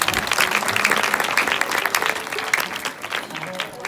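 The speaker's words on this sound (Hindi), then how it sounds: "एक बार जोरदार ताली हो जाएगी" An audience claps loudly and steadily at a Chhattisgarhi comedy Ramayana stage performance, a dense, close wash of many hands that fades slightly toward the end.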